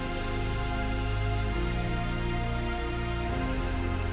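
A warm synthesizer pad group holds sustained layered chords, with a smooth dense tone that shifts once midway and stays steady and loud throughout, no voices.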